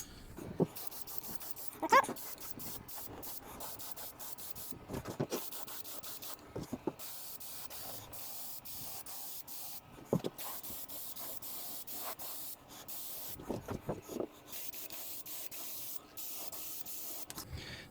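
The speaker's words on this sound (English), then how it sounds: "Give your gun a quick blast, get rid of any crap at the front" Spray gun blasting a latex coat onto a foam LARP-safe sword, a steady hissing spray in repeated bursts with short pauses between passes, close and fairly quiet, no talking.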